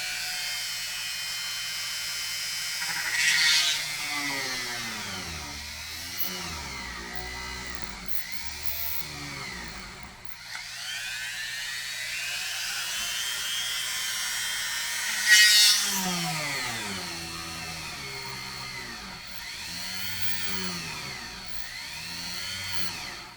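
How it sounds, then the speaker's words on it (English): A variable speed Dremel rotary tool whines on its slowest setting while working a Telecaster guitar body, its pitch rising and falling as pressure changes, with brief louder bursts. "I'm doing it with a variable speed Dremel. And starting off on the slowest setting."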